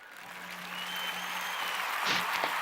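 Sound-effect clapping in a short burst, a swelling wash of many hands that builds steadily and ends with a couple of sharper claps near the close, moderately loud.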